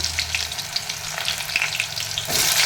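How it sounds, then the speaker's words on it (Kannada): Mustard seeds splutter and sliced onions fry in hot oil for a capsicum curry, a steady dense sizzle with crackling pops that swells louder near the end as more goes into the pan; nobody talks. "ಸಾಸಿವೆ ಚಟಪಟ ಆಗಲಿ ಉಳ್ಳಾಗಡ್ಡೆ ಹೆಚ್ಕೊಂಡಿದ್ನಲ್ಲ ಉಳ್ಳಾಗಡ್ಡೆ ಹಾಕ್ತೀನಿ"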